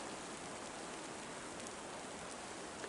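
Rain falls steadily at a mountain campground, a soft even hiss of drops on surfaces throughout, with a small sharp tap near the end.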